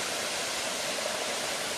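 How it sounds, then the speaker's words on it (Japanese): The Tsukubane waterfall in Kato City, Harima, gives a steady, even rush of falling water, soft and continuous throughout with no voices. "はい、つくばねの滝に来ましたね。"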